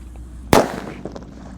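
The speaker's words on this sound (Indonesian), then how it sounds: "Jadi pagi ini yang kita nyalakan adalah mercon yang suaranya menggelegar" A single small purple Happy Flower firecracker goes off outdoors with one sharp, loud bang, followed by a short fading rattle and quiet.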